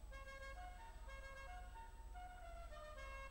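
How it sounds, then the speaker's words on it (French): Car horn in the video game GTA V, a faint musical horn tune playing a quick sequence of melodic notes over a steady low engine rumble. "Klaxon"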